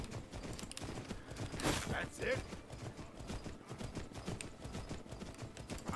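Horse hooves clip-clopping during mounted combat in Skyrim, a steady rhythmic trotting under game sounds, with a voice speaking briefly over it.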